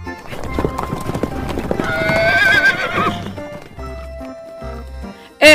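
Agitated horses beside a livestock truck neigh loudly and shrilly amid clopping hooves and scuffling, close by, with people talking in the background.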